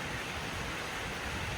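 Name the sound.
rain falling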